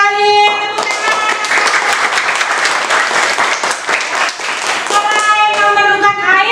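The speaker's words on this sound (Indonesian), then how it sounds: "Tepuk tangan." Classroom pupils clapping their hands together, a lively burst of applause for several seconds, with a woman's and children's voices heard before and after it.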